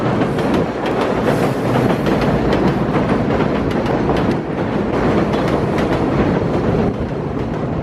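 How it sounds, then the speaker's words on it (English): A train rumbles loudly overhead on a bridge during a snowstorm in New York, a dense, continuous roar with rhythmic clatter that holds for several seconds. "That's a train passing over."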